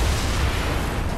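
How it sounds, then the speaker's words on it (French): A vehicle blows up in the video game Saints Row IV, a loud, dense blast that fills the short moment with a heavy rumbling roar and no speech. "est-ce que je me prends des dommages avec l'explosion des véhicules?"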